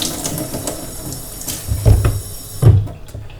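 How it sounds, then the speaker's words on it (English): Warm water runs from a household tap as a steady hiss, with two louder gushing splashes as it hits the sink, close and alone. "So what I'm going to do is run a bit of warm water."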